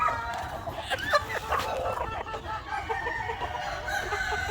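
Chickens cluck and squawk close by, with a rooster-like call among the busy, overlapping bird noise.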